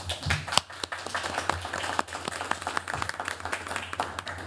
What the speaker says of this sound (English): It's always great when they applaud before